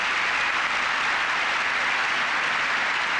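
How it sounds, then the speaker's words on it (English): A figure skating arena audience at a 1989 European championship pairs event gives dense, steady, rapturous applause that continues without a break. "Rapturous applause."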